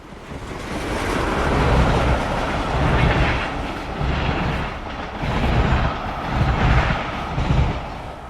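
A northbound CSX local freight train on the Toledo Subdivision rumbles past nearby, a steady heavy roar with rhythmic clacking of wheels over rail joints, swelling and easing as cars roll by.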